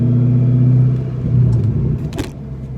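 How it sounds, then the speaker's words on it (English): A loud 2006 Ford GT engine with the muffler deleted rumbles deeply nearby, then revs up with a short sharp crackle from the exhaust. "the crackles coming even out of second gear, the car just sounds insane"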